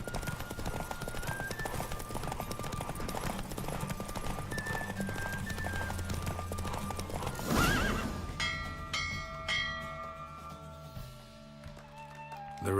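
A horse races in The Witcher 3 video game, rapid galloping hoofbeats with a loud whinny midway, then the run gives way to game music and chimes after the finish.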